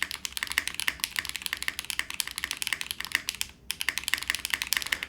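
Brisk, steady typing on a mechanical keyboard with an aluminum build and polycarbonate center, close-up clacky keystrokes in a continuous rhythm with one brief pause.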